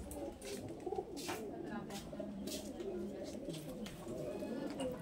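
An old male green-eyed Madras pigeon coos softly and repeatedly nearby while people talk over it.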